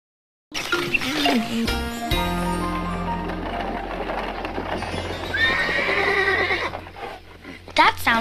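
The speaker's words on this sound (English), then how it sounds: "That sounds like a horse." A horse neighs and whinnies amid clip-clopping hooves and clinking noises, with people talking over the commotion.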